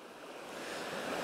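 Rapids at the foot of the first stretch of fast water on a forest river run in a steady, full rushing roar, close by and unbroken, with no voices.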